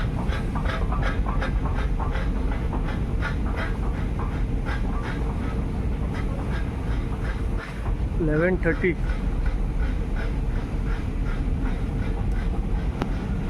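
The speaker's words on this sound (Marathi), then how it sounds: "ही मेट्रो आहे जी आपण एअरपोर्टवरून आपलं लगेज घ्यायला घेऊन जाते." An airport metro train carrying passengers to the luggage area gives a steady rumbling ride under continuous wind-like noise, with people talking over it and a brief higher-pitched tone in the middle.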